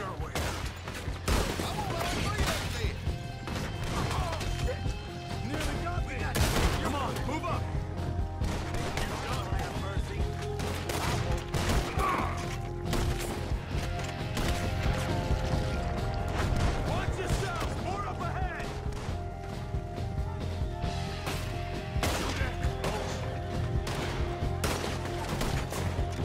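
Gunfire in Red Dead Redemption 2 during a jailbreak shootout: dense, continuous volleys of shots and crashes over a loud, steady game soundscape, with voices heard through the mix.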